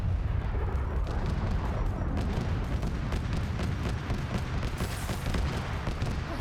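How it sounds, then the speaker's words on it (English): A tank opens fire in a military combat video game amid a constant, dense rumble of battle, with repeated heavy booms and blasts rolling over one another at a steady moderate level. "there's a tank right here also shooting at him"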